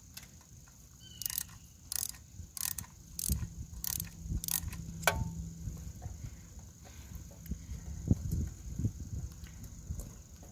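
Ratchet wrench clicking in short repeated bursts while loosening and tightening spark plug bolts on an 800 Suzuki Intruder motorcycle, close and fairly loud over a low background hum.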